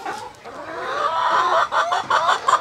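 Farm chickens cluck busily while feeding, a close flurry of short overlapping clucks and murmurs that quicken toward the end.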